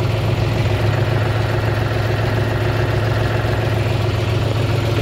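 A 2020 John Deere 5205 tractor engine idles steadily up close, a loud, even low rumble with a constant throb and no changes in pace.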